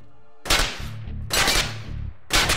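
Gunshots in a military video game, three loud, sharp cracks spaced almost a second apart, each trailing into a low rumble.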